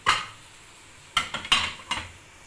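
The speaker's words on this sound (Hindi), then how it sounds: "ये वाले बर्तन मैं वॉश करूँगी।" Dishes and utensils being washed at home, with several separate clinks and clatters of metal pots and cutlery knocking together nearby, spaced irregularly over a couple of seconds.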